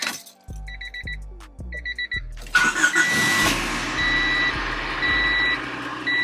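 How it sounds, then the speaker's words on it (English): A Honda Civic's engine cranks and fires up after an oil change, settling into a steady idle while a repeated double electronic chime sounds over it, both near and fairly loud. "Start the car up."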